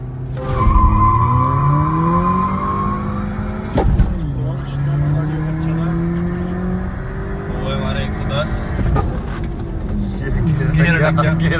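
Skoda Laura and VW Vento, a Stage 1 tuned car among them, launching in a drag race: engines rev hard and climb through gears with rising pitch, a shift drop around four seconds, tyre noise, while people talk over it.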